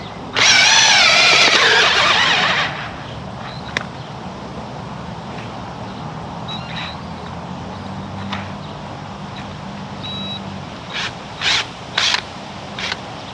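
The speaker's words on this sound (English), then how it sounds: "So you can see how the auger makes a bit of a mess." A power auger drill boring holes in garden soil for planting tulip bulbs runs loud and steady for about two seconds near the start, then gives way to quieter outdoor noise and a few faint scattered knocks.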